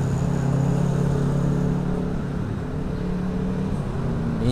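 A custom Kawasaki Ninja refitted with a scrambler body riding nearby in traffic, its steady engine drone humming with low tonal harmonics, fairly loud and continuous.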